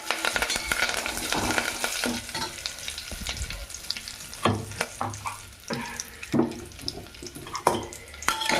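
Seeds fry in hot oil in a pan while being stirred, a steady sizzle broken by sharp scraping and clinking strokes of the spoon at irregular intervals, close and fairly loud.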